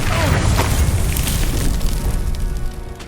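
A Confringo blast spell in the video game Hogwarts Legacy: a loud, sustained booming explosion with crackling bursts, holding steady before tapering off near the end.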